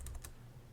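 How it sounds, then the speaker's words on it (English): Quick keystrokes on a computer keyboard entering a project title, a short run of about five faint close clicks followed by a pause. "go ahead and type in some kind of title like that"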